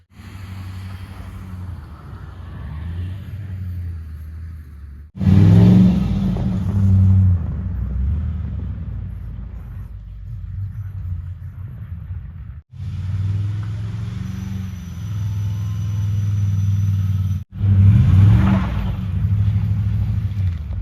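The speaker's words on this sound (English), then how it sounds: "I drove up and down this a little bit to pack it down so I can get out of here when I'm done" A car driving slowly back and forth over fresh snow to pack it down in an off-grid wilderness setting during a snowstorm, with a steady low engine rumble in several sustained passes that swell louder and ease off.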